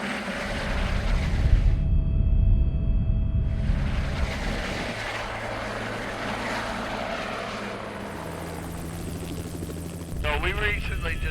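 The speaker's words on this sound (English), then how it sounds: "We've got a bird to catch, and our helicopter pilot, Martin, is waiting to take us" A helicopter roars overhead with steady rotor and engine noise, loud and close, fading slightly before swelling again near the end.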